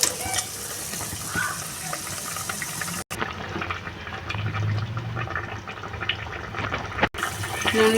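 Water is poured into a pan of Kashmiri red paneer curry, a steady gurgling pour with bubbling liquid, close and moderately loud, broken by two brief cuts, with no one talking.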